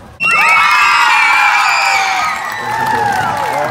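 A crowd of Amsterdam primary school children, ages from group 3 to group 8, erupts into loud, shrill cheering and whooping, with rising shouted voices that stay close and sustained for a few seconds before easing slightly.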